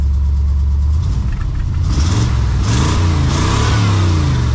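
A Honda Civic fitted with a 454 big-block V8 runs loud and close, its deep rumble idling steadily and then rising in a series of throttle blips with rough pulsing exhaust.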